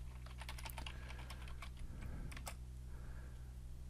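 Fingers tapping out a folder name on a computer keyboard, a quick run of crisp, close clicks in uneven bursts over a steady low hum, then trailing off.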